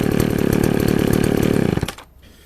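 A chainsaw with a 24-inch bar idles loudly and steadily up close, its engine chugging in a regular pulse, then cuts off abruptly near the end, leaving near silence.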